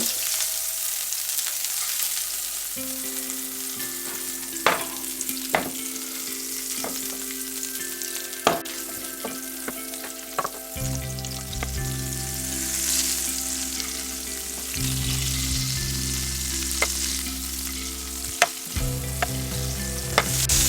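Butter melts in a frying pan for a pancake, giving a steady, close sizzle and crackle throughout, with occasional scrapes and clinks and a low hum running underneath.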